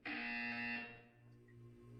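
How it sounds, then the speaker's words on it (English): A buzzer in the video game Portal 2 sounds once, a harsh electronic tone lasting under a second, fairly faint, then cutting off into a low hum. "You will hear a buzzer."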